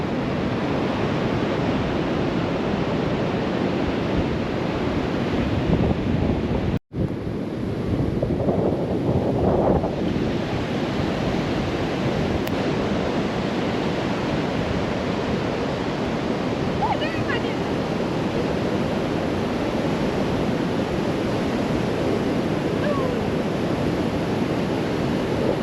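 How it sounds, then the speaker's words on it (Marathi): Sea waves wash up on Guhagar beach in a continuous roaring surge, buffeted by wind noise on the microphone, with a brief dropout early on. "पायाजवळ येणारं पाणी"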